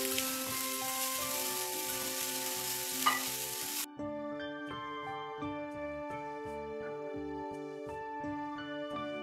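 Carrots with date palm jaggery fry in ghee over a low flame and are stirred, a soft, steady sizzle with scraping stirs under a layer of background music.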